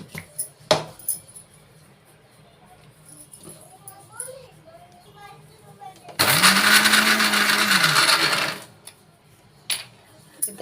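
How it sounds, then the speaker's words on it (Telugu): A mixer grinder whirs loudly for about two seconds as it grinds garlic into a spice powder with chilli, salt, fenugreek and cumin, after quieter kitchen clatter and a few knocks. "ఈ విధంగా ఎల్లిపాయ పొడిని గ్రైండ్ పట్టుకోవాలి"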